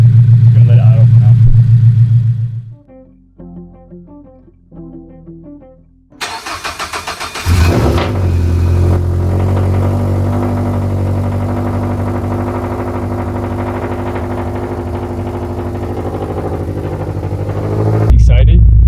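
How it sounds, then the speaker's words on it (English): A Toyota GR86 with a built engine, just after an oil flush, cranks and fires up, then settles into a steady, loud idle that continues to the end, with no one speaking over it. "just gonna let it idle for now"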